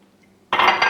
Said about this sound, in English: I am going to add a little bit of water